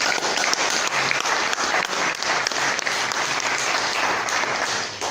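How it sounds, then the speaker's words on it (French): A café audience gives a loud, sustained round of applause to welcome a guest before a football match, the dense clapping filling the room evenly from start to finish. "On va vous applaudir bien fort s'il vous plaît."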